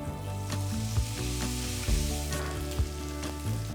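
Cooked vermicelli sizzles in a pan with finely chopped ginger and green chilies, a steady frying hiss running throughout with a few soft stirring knocks.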